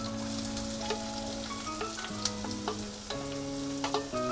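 Onion and capsicum frying in a pan for an aloo tikki burger filling, a steady sizzle under clinks and scrapes of stirring, close and continuous with no talk.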